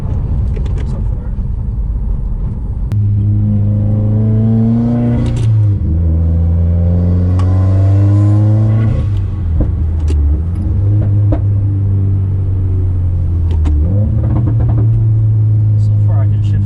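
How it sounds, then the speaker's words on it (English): A Subaru WRX engine with new spark plugs, shift bushing and shift stop revs up and drops as it shifts through the gears, loud in-cabin drone rising in pitch then falling at each change, with people talking over it. "So far I can shift in every gear, so that's good."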